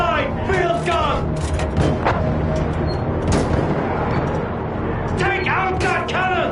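Field gun artillery booms and rifle fire crackle through a Battlefield 1 battle, dense and continuous, while soldiers shout commands over the din.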